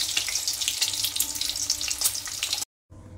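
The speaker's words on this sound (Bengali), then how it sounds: "এই যে হালকা করে ভেজে নিচ্ছে ডিমগুলো" Eggs fry lightly in hot oil with a continuous crackling sizzle close by, no talking, then the sound cuts out briefly before a quieter sizzle resumes.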